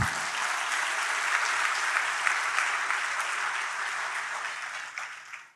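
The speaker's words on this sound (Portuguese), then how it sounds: "Vamos aplaudir ao Senhor, querido." A church congregation claps in praise of the Lord during a sermon, a steady, even wash of applause heard from a distance that holds throughout and fades out at the end.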